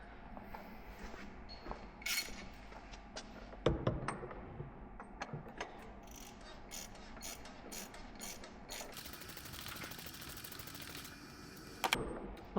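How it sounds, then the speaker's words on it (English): A ratchet tightens a bolt on a Ford Focus. Quiet, rapid clicking pawl strokes come in several short runs, with a few louder metallic knocks, all faint and close with no talking. "Always start it by hand and then finish it with the ratchet."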